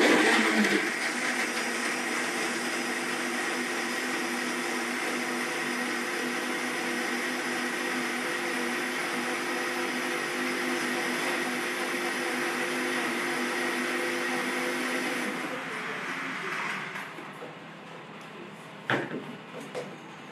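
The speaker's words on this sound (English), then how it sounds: "Okay, I'm going to mix now, it's going to make a noise." A blender whirs loudly and continuously as it purées banana, milk and dates, holding a steady roar for about fifteen seconds before winding down, followed by a faint knock.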